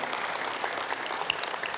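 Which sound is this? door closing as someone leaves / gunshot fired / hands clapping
hands clapping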